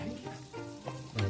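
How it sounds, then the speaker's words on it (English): Brussels sprouts sauté in garlic butter in a pan, a short burst of close, steady sizzling and crackling with no talking. "Sauteed Brussels sprouts"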